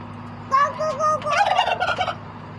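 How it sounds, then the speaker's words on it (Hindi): A turkey gobbles loudly and close, a rapid warbling burst repeated in quick succession over a faint steady hum. "देखा आपने, चेक किया कैसी आवाज़ निकाली है हमारे टर्की बर्ड ने?"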